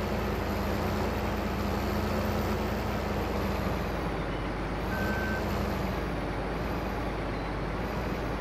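Truck reversing beeps in Farming Simulator 15, a steady tone repeating over a constant low engine rumble for the whole stretch, with no talking.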